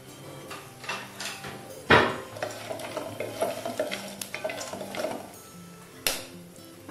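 Whole spices, peppercorns, cinnamon, cloves and cardamom, are stirred in a pot for vegetable pulao, with scraping spoon strokes, light rattles and a couple of sharp clanks against the metal over a faint sizzle.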